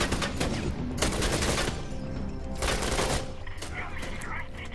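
Video game gunfire from Syphon Filter: The Omega Strain, dense bursts of close, loud shots in rapid clusters with brief gaps between volleys.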